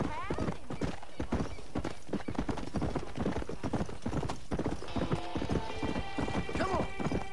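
Horse hooves gallop in the video game Red Dead Redemption, a fast, loud, steady clip-clop running throughout, with a horse whinnying briefly and game sounds layered on top.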